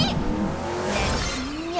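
A truck attack in the Epic Seven game: a short burst of engine revving and squealing tires with a rising whine, loud and close, lasting under two seconds.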